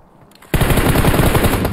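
Loud automatic gunfire from the battle royale game PUBG on the Sanhok map: after a quiet half second, a rapid, sustained burst of close shots rattles on without pause to the end.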